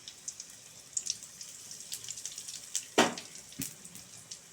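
Dried red chillies, mustard seeds and asafoetida crackle in hot oil as tempering for a curd kuzhambu, with soft steady sizzling under a few sharp pops and spits, one louder burst near the middle.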